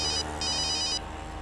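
A mobile phone rings with a repeated electronic ringtone, two bright warbling bursts sounding alone over a low background hum.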